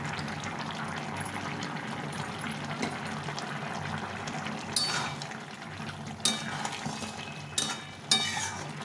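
Shukto vegetables cooking soft in a pan as a spoonful of ghee goes in: a quiet, low sizzle and bubbling, with a few louder stirring clatters near the end.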